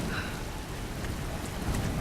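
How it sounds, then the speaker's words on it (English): Rain in the video game Tomb Raider (2013), a dense steady hiss of falling rain with a low rumble underneath, loud and continuous. "I know it's raining and all"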